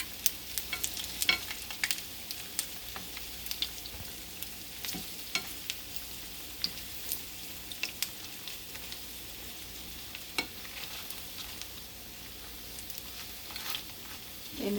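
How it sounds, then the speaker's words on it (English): Pakora frying in oil gives a soft continuous bubbling with scattered sharp pops and crackles, fairly quiet and close, with no one speaking. "I'm just going to let it cook on the other side. You let it fry for about"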